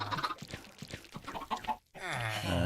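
Chickens in Minecraft cluck and squawk in a steady run of fairly loud calls, ending in a drawn-out rooster-like cackle.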